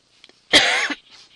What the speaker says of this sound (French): j'essaye de m'empêcher de tousser parce que ça me fait un mal de chien dès que je tousse